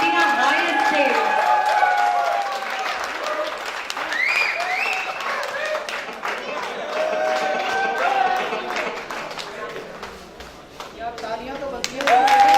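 An audience at an award ceremony claps in a broad, sustained wash of applause, with someone talking over it through much of the stretch; the clapping thins briefly near the end before swelling again.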